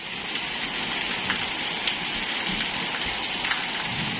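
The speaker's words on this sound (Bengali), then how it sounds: "খুবই জোরে অনেক প্রচুর বৃষ্টি হচ্ছে" Heavy rain pours steadily, a dense, constant hiss of drops drumming on surfaces close by, with a few sharper splats now and then.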